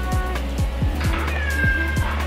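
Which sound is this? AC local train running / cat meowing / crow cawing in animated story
cat meowing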